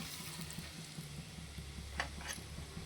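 Okra frying in a pan, a quiet steady sizzle with soft stirring clicks and a couple of brief hisses and scrapes.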